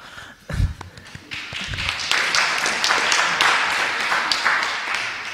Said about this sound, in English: Could have given me a clap